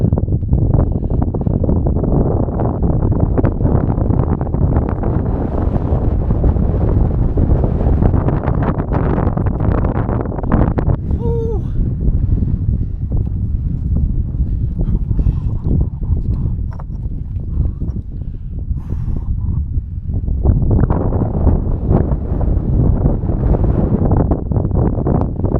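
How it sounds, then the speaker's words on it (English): Strong gusting wind on the North Welsh coast during a hike, roaring and buffeting loudly against the microphone without letup, with a brief lull in the middle before rising again. "It's so windy."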